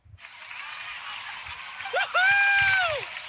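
Crowd applause in Genshin Impact, set in Natlan, celebrating the young warrior Kachina. A steady hiss of clapping builds and then swells, while a voice rises in a whooping cheer near the end.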